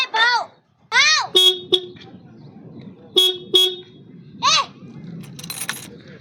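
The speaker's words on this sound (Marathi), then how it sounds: "खरं तर मला हॉर्न वाजवायचा होता." Vehicle horn giving several short, flat toots, about four bursts spread across the clip, between loud nearby shouting voices.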